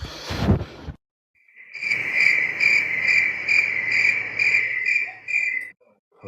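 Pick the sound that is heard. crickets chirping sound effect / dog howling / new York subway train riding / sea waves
crickets chirping sound effect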